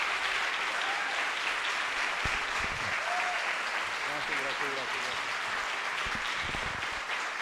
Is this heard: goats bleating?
no